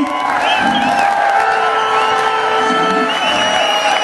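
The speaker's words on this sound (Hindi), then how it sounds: "बहुत सी तालियां इंडिया की टीम के लिए।" Crowd at a kabaddi match in Santa Coloma cheers, whoops and claps continuously, with loud overlapping shouts and whistles filling the whole stretch, close and energetic.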